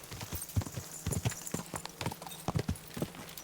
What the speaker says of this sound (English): Get my horse real quickly and we'll ride to our destination.